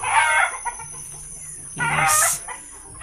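Chickens cluck nearby in two loud bursts with a quieter stretch between, against a faint steady background hum.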